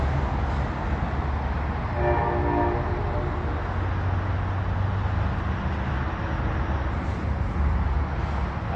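A train at the Stamford, Connecticut station, a steady loud rumble of rolling railcars with a brief horn-like tone partway through and a constant wash of rail noise.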